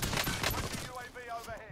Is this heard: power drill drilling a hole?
no